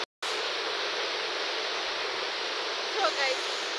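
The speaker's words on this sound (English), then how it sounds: "This is now our waterfall" A waterfall roars continuously and up close after a brief silent gap at the start, a dense rushing wash of falling water with a slight swell near the end.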